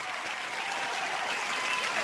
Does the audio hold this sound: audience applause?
yes